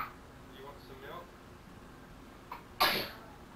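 A single sharp sneeze bursts out near the end in a quiet home, preceded by faint murmuring voices and soft background noise.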